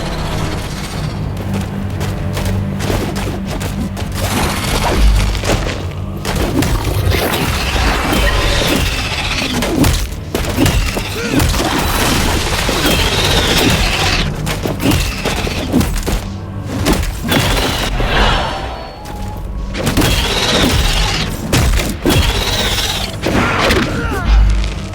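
Heavy impacts and booming crashes from combat in the action game Atlas Fallen, loud and dense throughout with thuds, smashes and shattering hits layered over a music bed.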